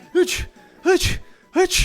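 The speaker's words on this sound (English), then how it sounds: "we get the long sneeze" A person sneezes three times in a row, each a breathy, voiced burst followed by a rushing exhale, spaced roughly evenly and heard up close.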